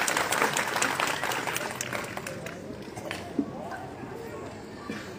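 Applause from a crowd at a ration distribution event in Bhong, Pakistan, with dense clapping at the start that fades into quieter scattered claps and background sound.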